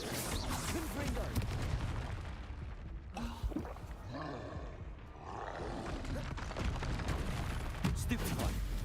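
Confringo spell combat in the wizarding game Hogwarts Legacy, dense bursts of fiery blasts and crackling impacts with roaring creature growls, loud and chaotic, dipping briefly in the middle before surging again.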